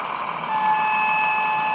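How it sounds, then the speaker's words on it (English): A steady mechanical whir with high, sustained electronic tones from a running Märklin model construction train, continuous and nearby. "Here comes that construction train."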